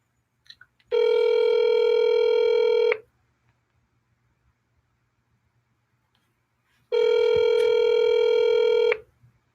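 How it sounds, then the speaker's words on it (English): Two long, steady electronic telephone tones sound loud and clear, each about two seconds, separated by several seconds of near silence with faint clicks. "Margaret Hess, if you're watching, Chris is going to try dialing you now."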